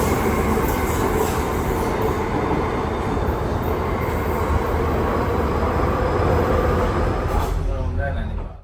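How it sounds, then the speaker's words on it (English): An automated Docklands Light Railway train rumbles loudly and steadily at an old underground station, with rail hum and screeching wheel tones, then the noise cuts off at the end. "Here's our automated train, too long for the platform at this dinky legacy subterranean station"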